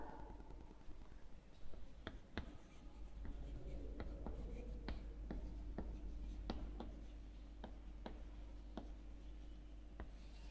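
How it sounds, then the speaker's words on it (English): Marker or chalk scratching across a classroom board in short strokes and taps, close and steady, with faint room noise and no voices. "I write down here"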